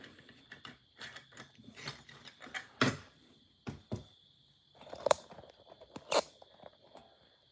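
Four-pin lock being picked by hand, a series of faint, close clicks and sharp metallic snaps spaced irregularly, with a steady thin hum underneath and no talking.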